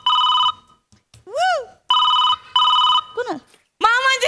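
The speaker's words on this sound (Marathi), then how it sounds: "कोण मामाजीचा फोन आला" A telephone gives several bursts of electronic ringing, separated by short pauses, while voices call out between and after the rings.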